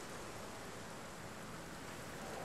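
Rain falls in the dinosaur park video game Jurassic World Evolution 2, a dense, even wash of steady hiss throughout, soft and distant with no voices.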